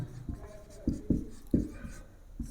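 A pen or marker writes during a Hindi language lesson, with short scratchy strokes coming in an irregular rhythm, close and moderately loud with no speech over them.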